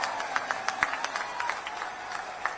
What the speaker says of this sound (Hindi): जोरदार ताली बजाकर उनका स्वागत करें।